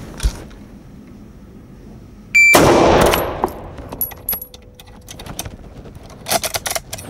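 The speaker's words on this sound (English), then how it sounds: "Let's do another twofer. And I'm loading them asymmetrically because this is S&B ammo." A Lee-Enfield rifle is loaded from two charger clips of S&B ammunition. A sudden loud metallic rasp of rounds being stripped in is followed by scattered clicks and clacks of the bolt and clips.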